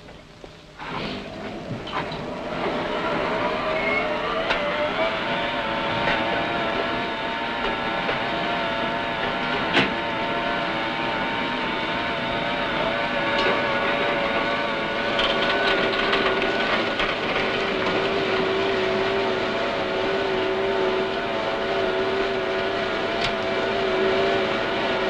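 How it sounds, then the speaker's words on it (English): A heavy log train arriving at a mill in New Zealand rumbles steadily for the whole stretch, with grinding, squealing metallic tones and a sustained whine rising midway, close and loud. "2 hours after leaving Murapara, trains arrive at the mill"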